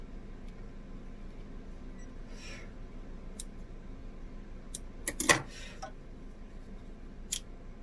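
Scissors snipping while sewing a tote bag, a few faint, sparse cuts with one sharper cluster of snips near the end over quiet room noise.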